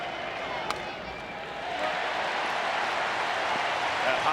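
A baseball stadium crowd in the late innings of the 1995 ALDS Game 5 between the Yankees and Mariners swells into a broad roar of cheering and clapping, with commentators talking over it.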